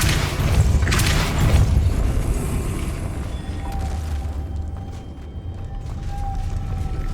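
A Depulso spell is cast in the video game Hogwarts Legacy, a loud burst of booming, creaking mechanical rumble and ratcheting that fades into a lower sustained rumble with a faint high tone.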